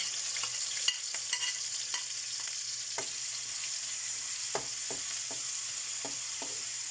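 Chopped onion and garlic sautéing in a pan for a malunggay and century tuna dish, with a steady soft sizzle and scattered light spoon clicks as the pieces are stirred, nearby and without talk.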